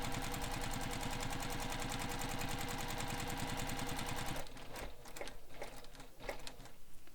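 A sewing machine stitching a fabric bag runs in a steady, fast mechanical chatter for several seconds, then slows into a few separate stitches and clicks; no voices.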